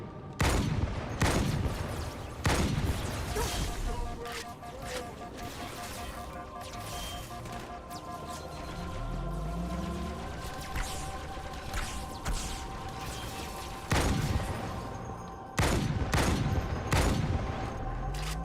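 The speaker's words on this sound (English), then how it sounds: "the rate of fire on this sniper rifle is awesome" A sniper rifle in Halo 2 Anniversary fires in quick succession, sharp loud cracks spaced irregularly amid other gunfire, impacts and whooshes from the game's battle.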